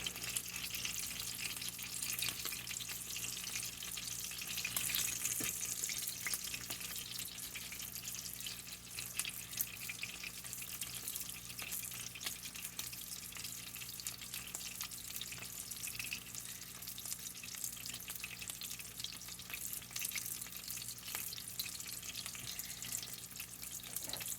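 Steaks frying in beef tallow give off a steady, moderately quiet sizzle and crackle that runs evenly throughout with no talking.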